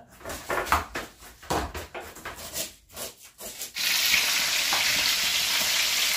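Tilapia fries crispy in hot oil, first with intermittent crackling and scraping bursts, then a sudden loud, continuous sizzle that holds steady to the end; no speech.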